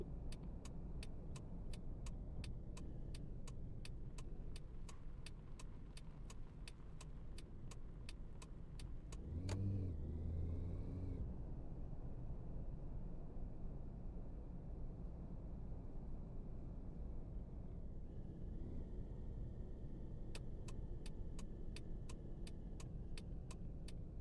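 A car driven through city streets in the game Taxi Life, its engine humming steadily throughout with a brief louder surge partway through, no voices heard.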